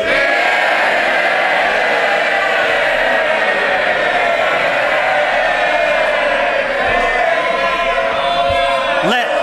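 Crowd of MPs cheering and calling out in the House of Commons chamber during Prime Minister's Questions, a loud continuous roar of many voices filling the whole stretch.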